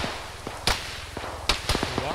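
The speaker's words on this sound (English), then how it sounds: "Gunfire at the chopper coming in from the southeast" Gunfire in a military video game, a few sharp separate shots cracking over a steady low rumble, with a voice talking alongside.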